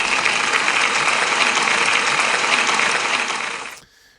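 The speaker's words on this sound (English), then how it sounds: "Can we give Aria a big round of applause" Sustained, loud applause from a school assembly audience celebrating a pupil named Aria, a dense, even clapping that continues for several seconds before quickly fading away.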